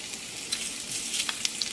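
Curry leaves dropped into hot oil with cumin, mustard seeds and chana dal for a tempering crackle and sizzle steadily, with scattered sharp pops over a constant frying hiss.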